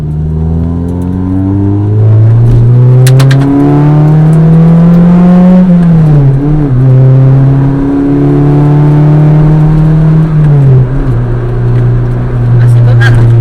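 Honda EK9 or DC2 engine pulling hard under acceleration from inside the car, a loud rising howl that climbs through the revs, dips briefly at a gear change, then climbs again, with a voice speaking over it.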